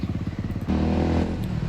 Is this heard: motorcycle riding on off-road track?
yes